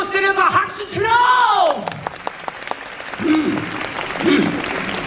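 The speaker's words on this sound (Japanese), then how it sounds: "ウェーブを知ってるやつは拍手しろ。" An audience at a Universal Studios Japan show bursts into loud applause as an amplified performer talks over it in a sing-song voice, the clapping swelling and then fading under further speech.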